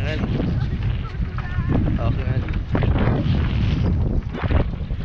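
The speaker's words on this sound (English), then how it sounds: "it's very windy up here." Strong gusting wind high up on a bridge buffets the microphone with a loud, continuous rumbling roar, swelling and easing in waves throughout.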